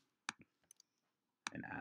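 Mouse clicks on a computer while entering a wrestling tournament division online: two sharp near clicks, a few lighter ticks, then a louder click followed by a brief burst of rustling handling noise.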